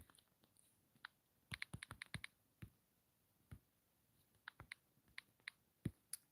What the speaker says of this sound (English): I'm typing away on my screen.